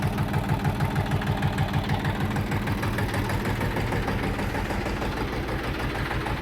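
A KM385VT diesel engine idles after injector cleaning and valve adjustment, with a steady, even, rhythmic knocking beat close up that runs without pause.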